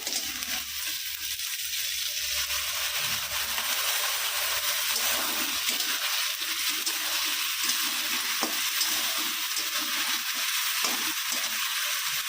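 Tomato frying and being stirred into a crab curry in a pan, a steady close hiss of oil with scraping spoon movements throughout, no talking.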